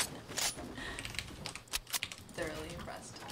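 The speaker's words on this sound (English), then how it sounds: "Sometimes you go so fast it sounds like you're typing a letter." Fast button pressing on a game controller during a Fortnite Battle Royale match, a quick irregular run of clicky taps that sounds like typing, close and moderately quiet with some faint talk around it.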